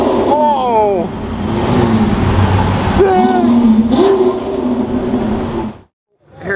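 A Ferrari 812 with a Novitec tune, a V12 supercar, roars past nearby with rising and falling engine pitch sweeps. Excited voices talk over it before it cuts off abruptly.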